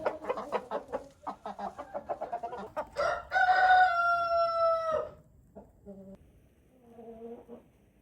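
Farm chickens cackle and cluck in short bursts, close by, and a sustained crowing call rises in the middle before quieter clucks follow.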